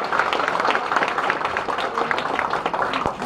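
An audience claps steadily at a gathering, dense continuous applause at moderate loudness with a little background chatter.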